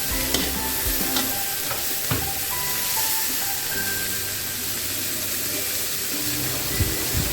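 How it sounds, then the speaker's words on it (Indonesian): Chili and petai stirred and frying in a hot pan, a steady close sizzle with scraping stir strokes and occasional clinks, no talking. "Lantas cabai serta petenya kita masukkan semuanya ya teman-teman."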